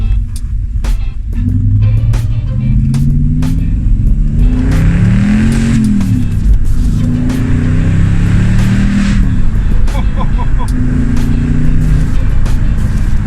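A Ford Focus ST Mk3 engine revs up and down repeatedly while driving, loud and close, with rising and falling pitch sweeps and some clicking in the background.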